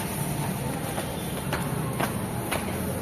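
A Manila LRT light rail train near Baclaran rolls past with a steady low rumble and sharp, evenly spaced wheel clacks about every half second, with no talking.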